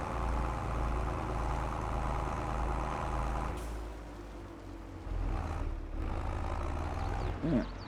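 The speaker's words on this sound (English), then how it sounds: "We're going to use the Fiat Agri to do the muck spreading" A Fiat Agri tractor engine running in a farming game on a muck-spreading job, a steady low diesel rumble that eases midway, then swells again with a brief hiss near the end.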